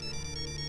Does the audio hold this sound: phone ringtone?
yes